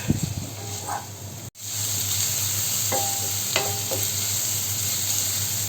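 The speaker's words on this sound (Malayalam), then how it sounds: "ഉപ്പ് ചേർത്ത് കൊടുക്കുന്നുണ്ട് ഇതൊന്ന് നന്നായിട്ട് ഇളക്കി കൊടുക്കാം" Chopped ivy gourd and onions with salt frying in a pan, a loud continuous sizzle with a few spoon scrapes and stirring strokes, briefly cut off early on, then steady frying.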